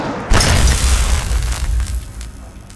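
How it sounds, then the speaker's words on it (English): An emergency pulse explosion destroys turrets in Fallout 3, a loud, close, deep boom that hits suddenly, then rumbles and slowly fades over a couple of seconds with no talk over it. "Activate emergency pulse explosion."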